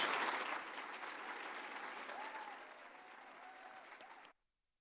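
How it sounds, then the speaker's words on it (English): Conference audience applauding for a senator taking the stage, dense and steady clapping that starts loud and eases slightly before cutting off abruptly. "So let's give a big round of applause."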